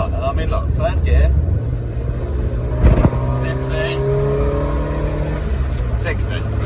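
A light 1990s first car of about 750 kilos, on very old lowering springs, accelerates in third gear with a steady engine drone and rising tonal harmonics, a brief louder bump partway through, under continuous talk.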